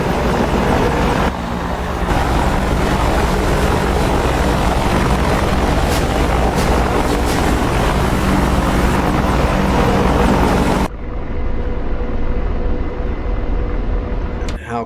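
A Chinook helicopter in a video game drones steadily with a loud, broadband rotor roar that holds for about ten seconds before cutting off sharply and dropping to a quieter background.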